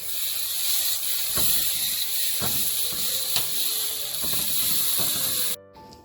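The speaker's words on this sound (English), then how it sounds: "I'm going to turn off the stove." A kitchen stove that had been simmering tomatoes hisses steadily under scattered mechanical clicks and ratcheting ticks from the knob, then the flame noise cuts off abruptly just before the end.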